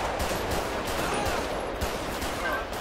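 Rapid bursts of gunfire in a police roleplay video game, a dense fusillade of shots running continuously at close range for a few seconds.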